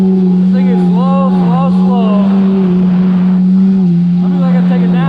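A Yamaha GP701 personal watercraft engine hums steadily at cruising speed while riding, a constant low drone heard close beneath someone talking over it.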